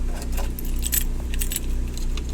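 Car keys jangling in the ignition as it is switched on, bright metallic rattles repeating over a steady low engine hum.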